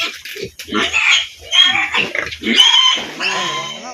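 Pigs on a hog farm grunt, squeal and oink in a busy, close chorus, several animals calling over one another in rapid, irregular bursts.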